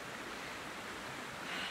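A river at a wild camping spot in Spain rushes in a steady, even wash of water noise, moderately far and unbroken, with no voices.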